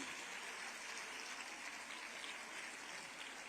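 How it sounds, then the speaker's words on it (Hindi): An audience at a standing ovation claps continuously in a soft, distant-sounding wash of applause that stays steady throughout. "अपने स्थान पर खड़े होकर जोरदार तालियों से आप अपने हृदय के उद्गार उन तक पहुंचाएं"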